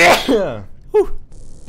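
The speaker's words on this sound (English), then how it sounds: "Oh, God, I'm gonna sneeze." A single sharp sneeze bursts out close and loud from a person playing a scary game. A brief cough-like throat sound follows after a short pause, then quiet.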